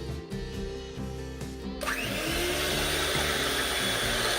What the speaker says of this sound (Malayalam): മുട്ടയുടെ വെള്ളക്കരു ഇലക്ട്രിക് ബീറ്റർ ഉപയോഗിച്ചിട്ടാണ് ഞാൻ ബീറ്റ് ചെയ്യുന്നത്.